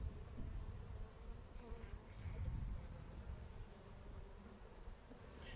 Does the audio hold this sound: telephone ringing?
no